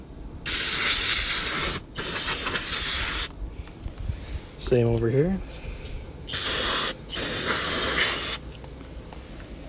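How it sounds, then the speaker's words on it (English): Brake cleaner sprays from an aerosol can in several short and long hissing blasts during an oil change on a 2011 Jeep Compass, with pauses between them and a brief spoken remark in the middle. "take some brake cleaner and spray around the area just to clean it up a little bit"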